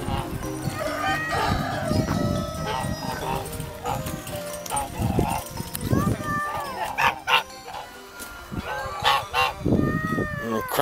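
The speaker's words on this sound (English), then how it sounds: "There's geese." Geese at an animal rescue honk loudly and repeatedly, with dogs barking and chickens mixed in, while a person talks over the noisy barnyard.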